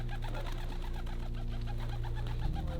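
Pigeons cooing inside an abandoned building near the Salton Sea in California, several birds giving repeated soft, rhythmic coos over a low steady hum, close and clear with no talking.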